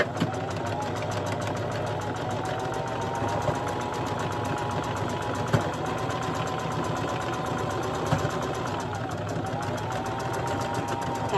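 Sewing machine stitching a quilt seam at 5/8 inch allowance, including a back stitch, a steady rapid mechanical whir with fast repeating needle ticks, close and continuous.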